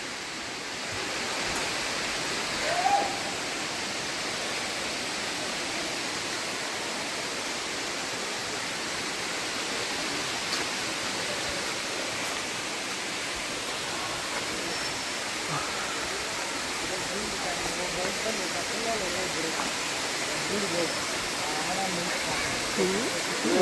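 Talakona waterfall near Tirupati pours in a steady, broad roar that stays even and fairly close throughout, with a faint voice or two barely surfacing above the rushing water.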